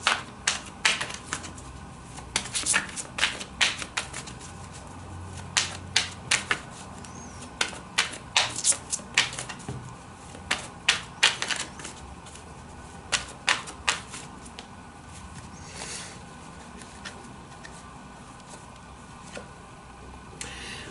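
Angel oracle cards shuffled by hand for a tarot reading give off a run of crisp, irregular clicks and taps, dense at first, then sparser with quiet gaps near the end, all close and without talk.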